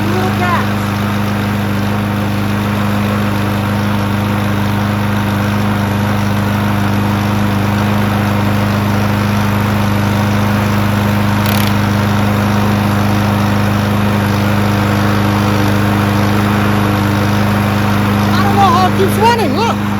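Small engine equipment idles steadily on only a little gas, giving a constant low hum and drone that runs unbroken the whole time with no changes in pace.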